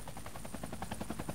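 A helicopter's rotor thumps in a steady rapid beat with a constant engine whine, muffled and moderately distant, alone with no voices.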